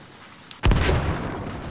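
A sudden loud explosion goes off in a shooter video game, a single sharp blast that rolls into a rumbling decay lasting about a second.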